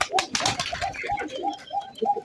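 Teddy pigeons cooing up close in a loft, with a string of soft, repeated throaty coos in an uneven rhythm and a little rustling around them.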